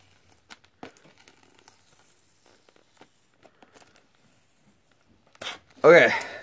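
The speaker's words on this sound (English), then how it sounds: "let's just peel it off now" Plastic packaging of Pokemon Eeveelution figures being peeled open: faint scattered crinkles, then a loud close burst of tearing and crackling plastic near the end.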